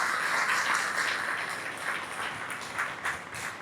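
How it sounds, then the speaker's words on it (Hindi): Audience in Kaithal applauds with steady, moderately loud clapping spread across the whole moment, a dense crowd texture without speech. "कैथल वालों के लिए जोरदार तालियां हो जाए"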